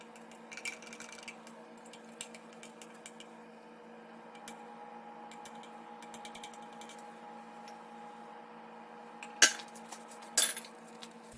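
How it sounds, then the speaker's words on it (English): Cold brew coffee grounds and water are stirred in a jar, giving scattered light clinks and taps over a low steady hum, with two louder knocks near the end. "I'm just gonna give it a little stir to make sure everything is soaked"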